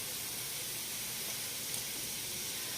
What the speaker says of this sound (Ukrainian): наш маринад закипів заливаємо сюди отак